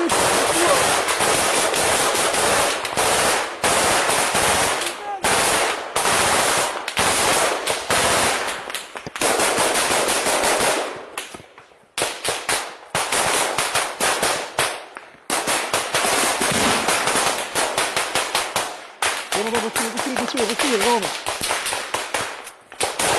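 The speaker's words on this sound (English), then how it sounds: "he gets interrupted by non-stop fire from Russian soldiers" Sustained bursts of automatic machine gun fire from Russian soldiers in combat against Ukrainian troops, loud and close, in rapid rattling volleys with brief pauses between them.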